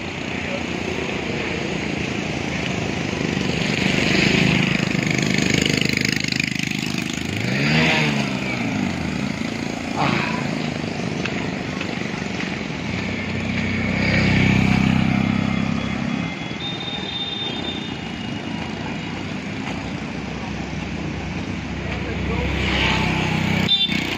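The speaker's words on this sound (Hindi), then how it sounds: "ये बाइक पे बोले जा रहे हैं, ये साइलेंसर निकाले हुए सारे" Loud, unsilenced motorcycles roar along a mountain road in Uttarakhand on the pilgrimage route between Gangotri and Kedarnath. Engine noise rises and falls steadily through the whole stretch, with people talking over it.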